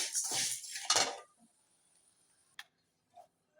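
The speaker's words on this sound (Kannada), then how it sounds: "ಒಂದು ಪಾತ್ರೆ ತೆಗೆದಿಟ್ಕೊಳ್ಳೋಣ." A metal cooking pot is handled during preparation of a flattened-rice payasa. Close rustling and scraping comes first, then two light, isolated clinks as it is set down.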